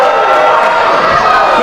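Wrestling crowd at a DKW no-rules Xtreme championship tag match, a loud, dense roar of voices and cheers sustained throughout with no break.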